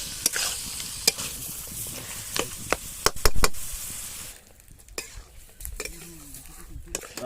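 Duck meat, a desi country duck, stir-fried in a pan with salt, giving a steady sizzle and frying hiss broken by sharp clinks and scrapes of a spatula against the pan, with a quieter stretch near the end.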